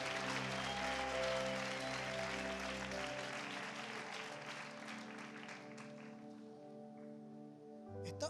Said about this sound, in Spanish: Aplauda por la fe.